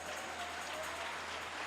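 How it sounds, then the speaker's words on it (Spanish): A church congregation claps hands together during a worship service, a dense, steady burst of applause with no break. "Ahora sí, dale una ofrenda de palmas a tu Señor."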